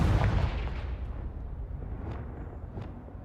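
A Confringo blasting spell exploding in the video game Hogwarts Legacy, a heavy deep boom that rolls and decays over a few seconds, followed by a couple of fainter crackling bursts.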